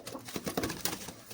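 A fancy pigeon near a rooster's cage coos in soft, low bursts, several throaty pulses close by and fairly quiet, with faint shuffling around them and no talk.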